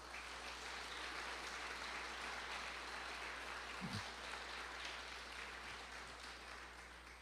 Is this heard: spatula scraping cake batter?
no